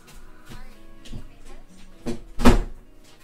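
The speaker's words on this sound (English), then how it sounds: "let me close my door, bro" A bedroom door in a home is pushed shut, with a few light knocks and rattles leading to one solid close near the end, quite near and heard alone.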